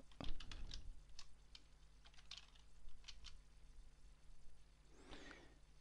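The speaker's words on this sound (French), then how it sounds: "je tape l'adresse" Quiet computer keyboard typing as a web address is entered, a few brief bursts of clicky keystrokes separated by pauses, faint and close, with no voices.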